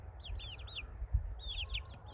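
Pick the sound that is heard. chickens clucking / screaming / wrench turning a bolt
chickens clucking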